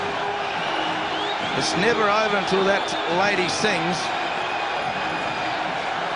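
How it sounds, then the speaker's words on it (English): Cricket crowd at a Test match in Barbados roaring as Brian Lara hits the winning runs against Australia, a loud continuous wash of cheering with a commentator talking over it. "And the whole crowd is on its feet."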